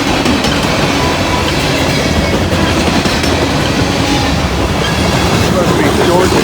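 A freight train with an empty steel coil car rolls past close by, a loud continuous rumble and rattle of steel wheels on rail with faint clickety-clack, steady throughout.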